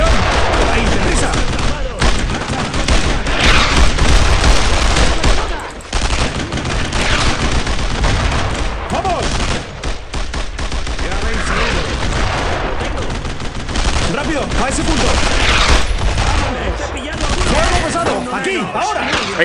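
Gunfire from the World War II shooter Brothers in Arms: Road to Hill 30, with dense, loud bursts of rifle and machine-gun fire rattling almost without pause over a battle din.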